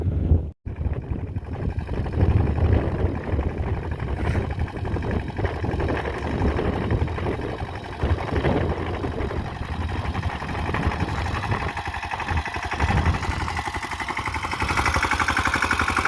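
A Mahindra Yuvraj 215 tractor engine runs steadily at close range, a continuous low mechanical drone with a brief dropout near the start, holding even through to the end with no talking.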